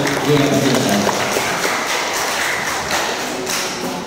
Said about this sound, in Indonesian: Oke, tepuk tangan ke Bapak dan Ibu sekalian